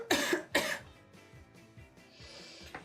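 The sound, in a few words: cough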